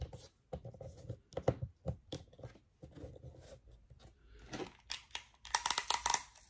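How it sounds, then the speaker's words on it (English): Transparent tape being pulled off a roll and pressed into place while assembling a paper-craft princess baby shower centerpiece; a string of close, crisp rips and crackles with soft handling taps, ending in a busier flurry of tearing. "So we're just gonna use this transparent tape and get her in place."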